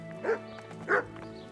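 Two short, close barks from a dog in the medieval game Kingdom Come: Deliverance, spaced about half a second apart over a low ambient drone.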